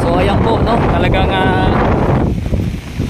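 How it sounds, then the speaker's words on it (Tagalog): Strong monsoon wind blows across Manila Bay beside Roxas Boulevard during heavy rain, loud buffeting gusts roaring into the microphone, with someone talking over them before the wind eases at the end. "Dahil nga po malakas po talaga yung hangin at may talagang wala pong tigil ang pag-ulan sa ngayon mga kababayan ko."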